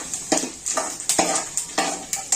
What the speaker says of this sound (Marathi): आता हे खोबरं आणि आलं थोडंसं मी या तेलामध्ये तळून घेते